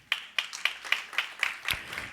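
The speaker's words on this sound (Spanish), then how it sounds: "¿Cuánto le da palmas al Señor?" Hands clapping in a church congregation, a steady rhythmic series of about eight crisp claps at an even tempo, fairly close and clear with no talking.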